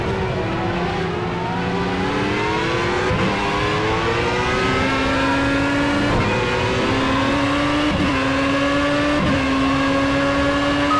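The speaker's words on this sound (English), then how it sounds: "we are in perfect position in the slipstream here of Javier Lopez to make a move down the inside here" Formula A race car engine in the Project CARS racing game at Hockenheim, a loud, continuous whine whose pitch climbs steadily through the gears with brief dips at shifts, running alone without talk.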